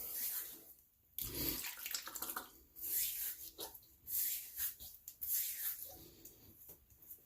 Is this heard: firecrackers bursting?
no